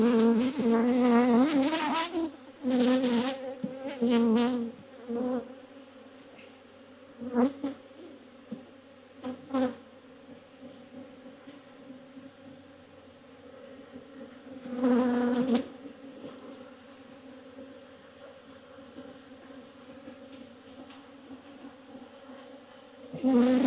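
Honey bees buzz steadily around an open hive in a bee yard, a low droning hum with louder passes as individual bees fly close to the microphone.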